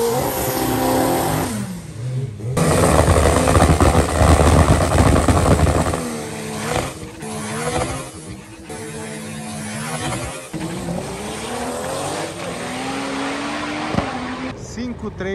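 Drag race cars at a Velopark drag strip launching and accelerating hard, loud engine roar rising in pitch through gear changes, heard near with crowd and voices underneath.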